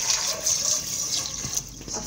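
Raw beef rinsed under a running tap before boiling, a steady close stream of water splashing over meat in a sink with no talking.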